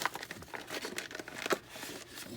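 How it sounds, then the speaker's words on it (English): Crinkly peeling and tearing of a plastic tray and cardboard card back from a MOTU Origins Thunder Punch He-Man Deluxe toy package, close and quiet, in short irregular rips and rustles. "See how well we can peel this without destroying the card back."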